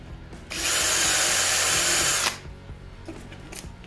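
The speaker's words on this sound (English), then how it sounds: "use the drill to clean up the trims" A power drill whirs steadily for about two seconds as it cleans up a hole trimmed in a Maxtrax recovery board, loud and close, then stops, leaving quiet handling clatter.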